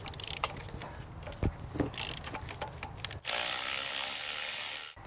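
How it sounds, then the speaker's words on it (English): A ratchet with a 5/8 socket loosening spark plugs on a 2005-2012 Toyota Avalon: rapid close clicking pawl ratchets in bursts, then a steady whirring spin. "To pull the plugs out, it's a 5/8 socket."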